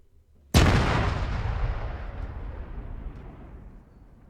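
Explosive charges detonating in the Arma 3 video game: one sudden loud blast followed by a long, rumbling roar that slowly fades over several seconds, with no talk.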